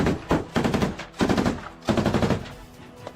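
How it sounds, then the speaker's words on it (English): AK rifle shots and machine gun bursts crack out in rapid, uneven volleys during wartime combat in Ukraine, loud and close with short pauses between strings of fire. "We now see him wildly firing the AK once more, as the machine gunner continues to lay down suppressive fire"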